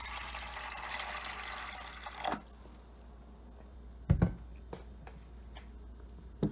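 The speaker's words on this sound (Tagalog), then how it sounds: "lagyan natin ng" Tap water pours steadily into a cooking pot of overnight-soaked mung beans for about two seconds, then stops, leaving a few scattered drips and clinks close by.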